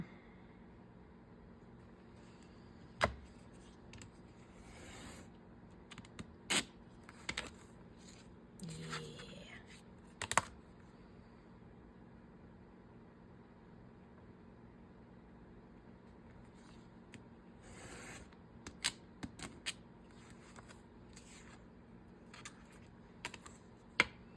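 Dark brown paper trimmed for a junk journal, a series of quiet, sharp clicks and snips spread out irregularly with short scraping touches, close but faint, with no talk.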